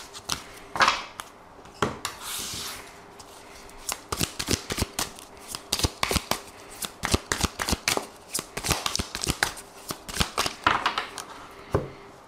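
Tarot cards being shuffled by hand, a close run of crisp riffles and soft slapping flicks in an irregular rhythm, with no talk over them.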